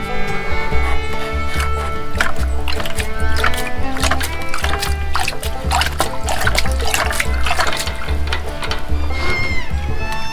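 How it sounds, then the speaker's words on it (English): Water trickles and splashes steadily from an automatic chicken watering system as it drains, with a continuous liquid sound and some dull knocking, close by and fairly loud. "And it's draining again"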